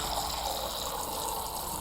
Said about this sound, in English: Now I'm pouring this one away